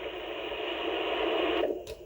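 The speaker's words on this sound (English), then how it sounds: "That's the ocean." A steady hiss of artificial ocean-wave noise from a small sound machine speaker swells briefly, then cuts off abruptly near the end.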